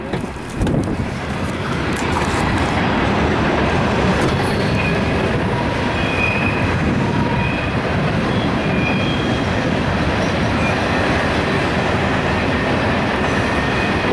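A loaded CSX eastbound coal train with helper locomotives rolls past at a railroad crossing, a loud continuous rumble and rattle of heavy cars with faint wheel squeal and wind, steady throughout with no talking.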